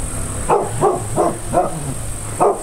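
A dog barks from behind a woodpile in a quiet forest village, five sharp evenly spaced barks at moderate distance, alone against a steady high background hiss.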